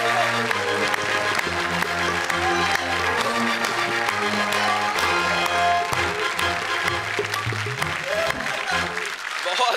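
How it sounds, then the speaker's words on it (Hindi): Studio audience applause at a Hindi comedy and poetry stage show, a steady loud wash of clapping running the full length beneath a bright musical backing with punchy beats. "जोरदार तालियां निशी और दीपाली के।"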